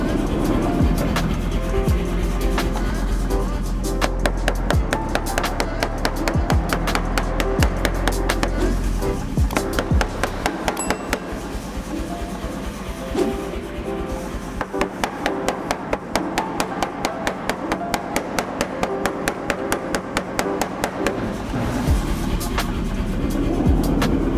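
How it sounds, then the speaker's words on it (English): A hammer forging hot steel, striking in rapid, regular metallic blows that repeat steadily, with brief pauses, loud and close over a low background roar of the fire. "I'm going to start forging it sideways"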